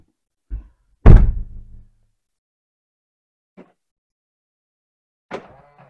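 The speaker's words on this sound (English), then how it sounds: "Let's shut the door." A single heavy Volvo V40 car door thunks shut, followed by quiet with a faint click and another soft knock a few seconds later.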